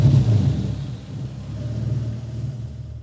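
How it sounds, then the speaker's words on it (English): A car engine rumbles at idle right after starting, a low, steady drone close by that dips briefly and then settles, with no talking. "So let's start the engine and we'll see it all in practice."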